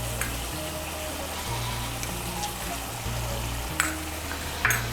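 Ground spice paste with salt sizzling in hot oil in a pan while being cooked down for a Bengali dish, a steady close frying hiss with occasional scraping stirs.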